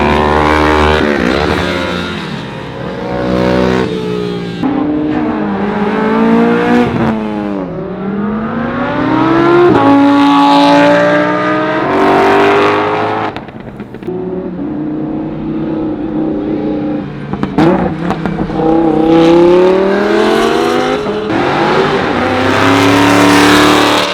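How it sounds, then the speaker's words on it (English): A Chevrolet Corvette Z06 at a Raleigh cars-and-brunch meet revs hard to redline again and again, loud close engine sweeps rising and falling in pitch with no talk over them. "Always be redlining this car."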